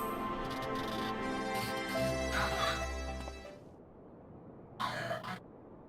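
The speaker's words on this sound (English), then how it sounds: "He like giggled and then coughed." A Final Fantasy XIV character gives a short giggle followed by coughing and throat clearing, heard over a sustained musical background that drops out, with a further brief cough-like burst near the end.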